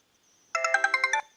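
A short Sony Ericsson Z610i mobile phone ringtone plays a quick run of bright melodic notes through the phone's small loudspeaker, about half a second of chiming tones.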